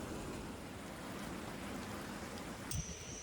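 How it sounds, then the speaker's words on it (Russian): A sudden heavy downpour in Bulgaria pours steadily as a dense, constant roaring hiss, with a brief dull knock near the end and no voices. "Если, конечно, прогулку не прервет внезапный ливень."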